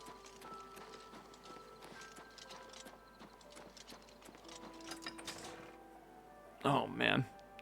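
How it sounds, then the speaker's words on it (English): In Blue Prince, soft, rhythmic horse hooves clop amid quiet mechanical clicking, and a short, louder burst sounds near the end. "There's my horsey."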